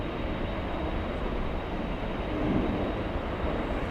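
A Boeing 787 airliner at LAX airport gives a steady, broadband engine roar with no breaks, heard from a distance and holding a constant level throughout without speech.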